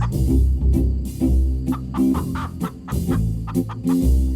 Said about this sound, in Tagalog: Uy, manok!